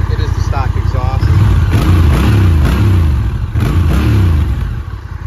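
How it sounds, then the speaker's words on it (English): A 2023 Honda Rebel 1100 DCT motorcycle with its stock exhaust idles and then revs in several quick rising and falling blips, close and loud, while someone talks over it. "I'll let you guys hear it revved up."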